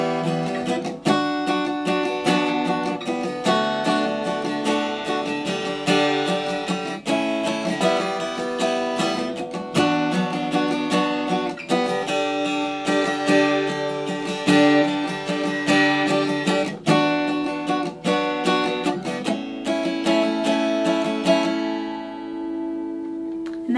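Acoustic guitar strummed through the chord progression of a song in standard tuning without a capo, a steady rhythmic pattern of bright full chords, loud and close, playing alone with no voice before ringing out at the end.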